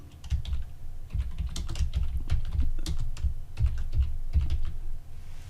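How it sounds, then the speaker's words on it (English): Typing on a computer keyboard, close and steady, with bursts of quick keystrokes and brief pauses over several seconds, no voices. "I'm going to type in"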